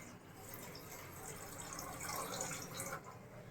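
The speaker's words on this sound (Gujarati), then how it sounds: "આ કડાઈ લીધી એમાં નાખીશું પાણી." Water is poured into a kadai on a gas stove, a soft, faint and steady splashing trickle that swells slightly midway, with no voices.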